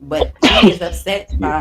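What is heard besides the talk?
sneeze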